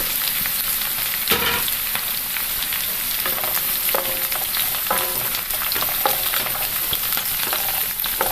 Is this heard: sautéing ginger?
yes